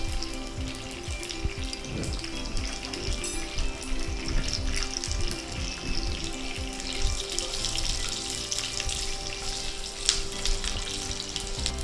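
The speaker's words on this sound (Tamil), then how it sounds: "பூண்டு வந்து இந்த மாதிரி கொஞ்சம் ப்ரௌனாக ஆற வரைக்கும் வதக்கிடுங்க எண்ணெயில்." Garlic frying in oil with asafoetida in a pan, a steady soft sizzle with light crackles and occasional scraping, continuous and moderately quiet with no talk.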